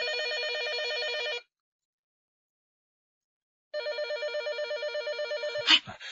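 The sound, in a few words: telephone ringing in radio drama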